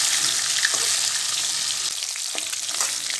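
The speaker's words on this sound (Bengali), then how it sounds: "আর এক পিটটা উল্টিয়ে ঠিক এরকম লাল করেই ভেজে নেব" Steady hissing and crackling of fish pieces frying in hot oil, close and continuous, with small pops scattered throughout.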